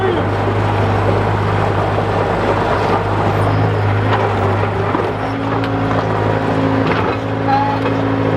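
Modified Bobcat skid steer running in a workshop, a loud, steady engine drone with a strong low hum that holds throughout, and voices mixed in over it.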